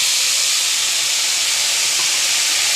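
Whole garam masala, bay leaves, dried red chillies, sugar and ground spice paste frying in hot oil, giving a steady, loud, close sizzle and hiss that runs unbroken throughout.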